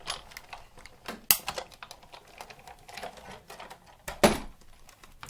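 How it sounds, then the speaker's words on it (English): A Big Shot die-cutting machine is cranked to feed cardstock and a flower die through on a cutting pad. It gives a run of irregular light clicks and taps, with two sharper, louder snaps standing out among them. "run it through, and that'll die cut the flower"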